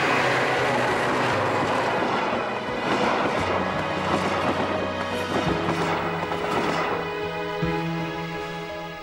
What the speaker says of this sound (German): Richtung Berlin ist ein Zug der